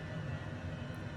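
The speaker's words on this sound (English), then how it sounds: "I'll go ahead and kill engine number 1." Honda Jet engine spooling down after shutdown in Microsoft Flight Simulator, a steady low jet rumble and hum filling a short stretch, alone with no talk.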